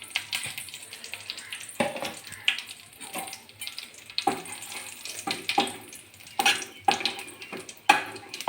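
Whole cumin and a bay leaf frying in mustard oil make intermittent bursts of sizzling and crackle mixed with clinks and scrapes of a utensil against the pan, uneven and close-up.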